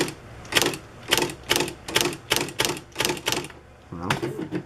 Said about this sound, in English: it's just like a normal typewriter.